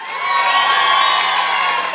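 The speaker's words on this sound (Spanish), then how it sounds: "Ahí está el aplauso del público, estos artistas en tarima." A crowd at a fair roars and cheers for singers performing on stage, a loud, sustained wash of shouting and whooping voices with no clear individual words.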